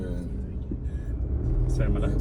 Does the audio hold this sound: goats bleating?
no